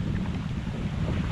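A brisk north wind rushes past a sailboat under a clear sky, a constant low, loud buffeting roar of wind across the microphone with faint water noise beneath.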